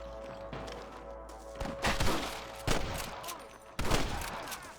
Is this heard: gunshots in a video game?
yes